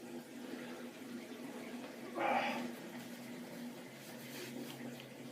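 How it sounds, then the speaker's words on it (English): Water drains from a bathroom sink after a shave: one short gurgling rush midway, close and moderately loud, over a steady low room hum with no talking. "I'm just going to drain some of this water out."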